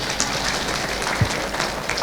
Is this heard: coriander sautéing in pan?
no